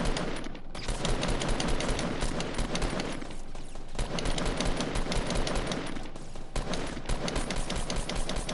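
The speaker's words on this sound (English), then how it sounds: "Oh, I'm getting shot at." Rapid automatic gunfire in an online shooter game, targeting the player: dense bursts of shots rattle on almost nonstop, loud and close, with brief gaps between volleys and no talk.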